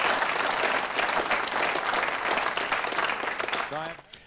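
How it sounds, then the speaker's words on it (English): A crowd applauding at a televised bowls tournament: sustained, dense clapping from many hands, fairly loud and even, tapering off near the end as a voice briefly begins to speak. "The crowd are encouraging her."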